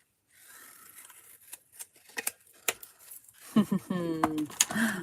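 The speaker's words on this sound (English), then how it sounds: "these scissors are really bad because they're still covered in adhesive" Scissors still gummed with adhesive cut paper for artist trading cards, giving a run of sharp, close snips and rasping cuts, sparse at first and then quicker, before a voice begins speaking over them.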